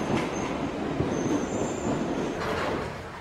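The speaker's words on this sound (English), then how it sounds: "Here comes the train" A London Underground Hammersmith and City line train pulls into the station with a loud rumbling roar, rattling wheels and faint high squeals from the rails, steady and close throughout.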